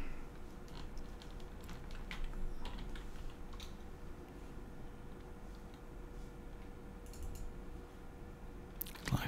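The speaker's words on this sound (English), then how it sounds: "Let's type it in." Soft, quick keystrokes on a computer keyboard patter steadily at a low level with a few louder clicks near the end, and no voices.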